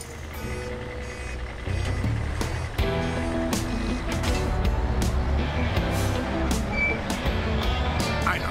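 An animated construction vehicle in a Bob the Builder cartoon backs up with a steady run of high, evenly spaced reversing beeps over a low engine rumble, then pulls away.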